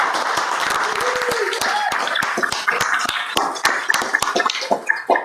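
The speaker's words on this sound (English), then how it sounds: "So how about a round of applause for Calla?" Applause at a town council meeting, steady room clapping with distinct sharp individual claps growing more scattered toward the end, a voice briefly heard beneath it.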